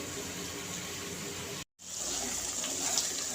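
About a glass and a half of water is poured into masala frying in a pan for a besan wadiyan curry, a steady rushing gush that breaks off briefly and then resumes.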